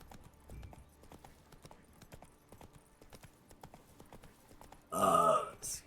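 Hooves of the horse Roach clopping in a video game, a quick galloping rhythm at moderate loudness, followed near the end by a short loud burp-like sound.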